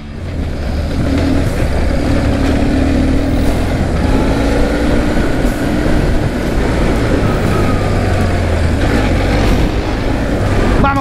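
A BMW R1150GS motorcycle runs over a rough, pothole-filled cement track with a steady, loud engine drone and constant wind and road rumble close by, and no talk.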